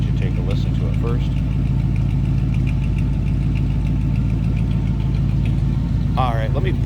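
A 1968 Chevrolet C10 with a 350 V8 and a new Edelbrock carburetor idles loudly and steadily up close, a deep, even rumble throughout, while someone talks briefly over it.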